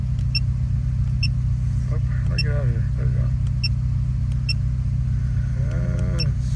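A 2004–06 Scion xB with a P0420 catalytic converter code idles while warming up, giving a steady, close low engine rumble throughout as a person talks over it.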